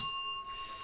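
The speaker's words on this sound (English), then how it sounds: "Bell rung." A small bell struck once, giving a clear ringing tone with steady overtones that fades slowly over under a second.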